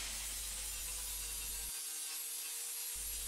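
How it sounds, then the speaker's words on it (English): An angle grinder fitted with a flap disc dresses welds on a Honda NC750X bash plate repair, a steady abrasive rubbing and grinding that runs continuously at close range, with a brief dip in its low rumble partway through. "Still just using a flap disc on the angle grinder for this."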